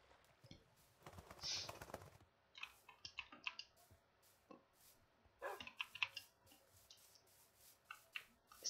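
A Minecraft 1.19 dog gives short barks and yelps, scattered and fairly faint, mixed with sharp clicking taps throughout.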